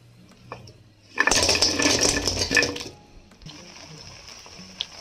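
Fried cabbage pieces for street-style gobi manchurian are tossed and stirred with a spoon in a bowl, making close, loud scraping and clinking for about two seconds, then quieter faint scraping and a soft background hum.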